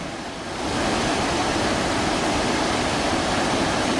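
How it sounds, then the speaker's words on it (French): The Rio Araças in the Ordesa canyon of the Pyrenees roars continuously down mountain cascades, a dense broad hiss rising quickly at the start and then holding steady. "Au fond du canyon coulent les eaux du rio Araças qui dévalent la montagne en splendides cascades."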